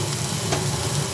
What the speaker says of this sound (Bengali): রসুন আর পেঁয়াজ দিয়ে প্রথমে এটা একটু তেলের মধ্যে ভেজে নিচ্ছি।